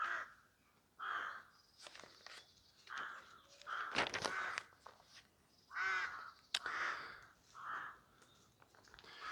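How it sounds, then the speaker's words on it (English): Noisy crows caw repeatedly around a church on a hill in Essex, harsh calls coming in irregular bursts at moderate distance, with faint footsteps and outdoor ambience between calls. "Some noisy crows, and right on cue"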